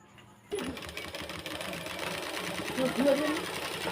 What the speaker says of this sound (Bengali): ঠিক এই একই নিয়মে আমি সেলাইটা করে নিচ্ছি